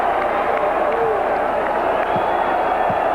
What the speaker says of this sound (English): This crowd is really into the game now